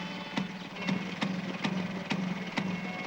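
A two-stroke engine idling slowly with intermittent firing, a low steady drone broken by sharp, evenly spaced explosive pops roughly every half second, heard alone without any talk.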